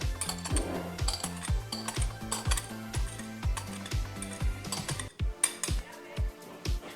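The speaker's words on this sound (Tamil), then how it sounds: "இப்போ நம்ம இது எல்லாத்தையும் சேர்த்து நல்லா கலந்துக்கணும்" A spoon or whisk clinks rhythmically against a bowl while wheat flour pancake batter is stirred, giving steady, close metallic taps with a brief pause near the end.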